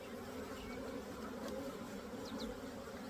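Bees from a hive being split hum in a steady, dense drone close by, continuous and unbroken, with no talk over it.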